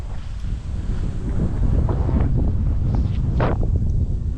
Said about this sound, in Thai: ลมแรงนี่นะ